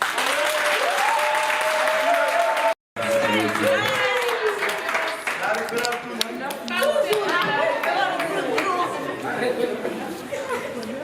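An audience at a Prestige Center and Canal Plus tour event applauding, a dense continuous clapping that carries on alongside crowd chatter and a voice talking over it, broken by one brief cut.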